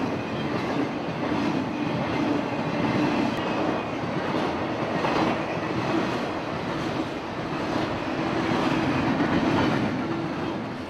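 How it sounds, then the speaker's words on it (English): A CSX freight train, the Q172 running Jacksonville to North Bergen, rolls past on the tracks with steady rumble and clickety-clack of wheels, loud and continuous throughout. "was a short train"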